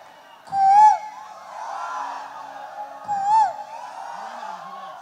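A live concert crowd imitates crow and cuckoo calls, with two bursts of whooping, warbling voiced cries over a steady crowd murmur.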